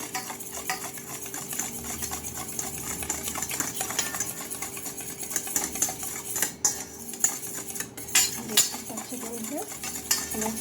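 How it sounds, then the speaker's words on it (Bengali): Spoon clinking and scraping as biscuit ingredients are mixed with oil in a bowl, a steady run of close metallic taps and stirring scrapes, with no talk. "সবগুলোকে আমি বেশ ভালোভাবে মিশিয়ে নেব তেলের সঙ্গে"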